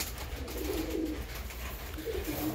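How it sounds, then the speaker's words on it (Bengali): Top-quality Giribaz pigeons coo softly in a few low, rolling bursts over a steady background hum, fairly faint and with no talking. "এই যে আমার কিছু গিরিবাজ পায়রা রয়েছে টপ কোয়ালিটির"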